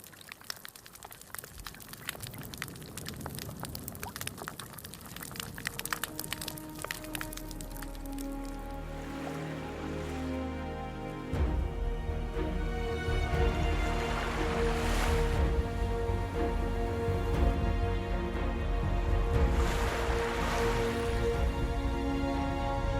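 Underwater ambience of a living coral reef, dense with crackling, popping and snapping marine life that grows busier and fuller partway through, with deep swells and low rumbles underneath and no voices.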